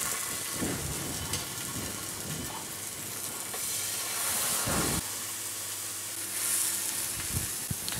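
Whiting fillet frying skin side down in a hot pan, a steady close sizzle and hiss with a couple of louder crackling bursts and faint kitchen clatter, no voices.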